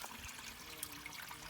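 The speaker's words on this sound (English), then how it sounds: "Water's coming out this end." Water trickles and splashes steadily from a 1996 Ford Thunderbird radiator during a replacement, a faint continuous flow heard alone.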